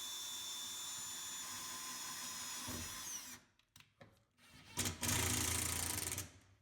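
A steady power drill whirs continuously driving self-tapping screws into wood, then stops and restarts in short bursts before a final longer run, close up with no talking.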